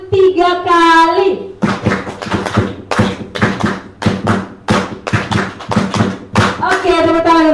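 A group of adults does a rhythmic clapping game at a teacher training session, with crisp bursts of hand claps in counted patterns between loud chanted voices, close and lively.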